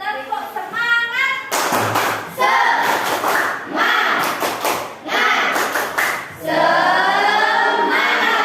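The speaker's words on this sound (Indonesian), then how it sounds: "Tepuk semangat." A classroom of students performs a rhythmic spirit clap in unison, sharp claps in a patterned sequence broken by short pauses, with children chanting and a teacher's voice between the bursts.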